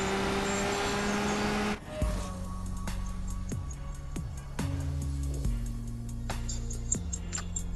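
A Ferrari F12 Berlinetta engine in the racing game CSR2 revs up through a series of stepped gear shifts, loud and continuous, with the pitch climbing and dropping at each shift.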